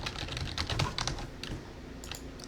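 Typing on a computer keyboard: quick, irregular bursts of close, crisp key clicks with brief pauses between runs, no voices.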